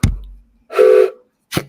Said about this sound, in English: I love the train whistle.